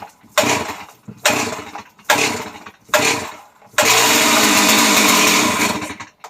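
A Stihl chainsaw on full choke is pulled four times, each pull a short rasping burst, before the engine catches and runs with a loud, steady buzz and then cuts off. Close and unaccompanied by talk.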